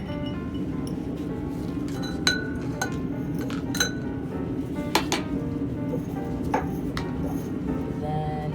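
A magnetic stir bar is pulled out of lab glassware holding a dissolved paraformaldehyde and sucrose solution, giving scattered bright glassy clinks and taps over a low steady hum.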